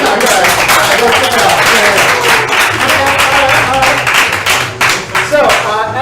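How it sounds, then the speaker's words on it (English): An audience at a comedy improv show applauds loudly and continuously, a dense wash of clapping from a crowd with some voices mixed in, then thinning out near the end. "I would say that applause was middle of the road, 3 points."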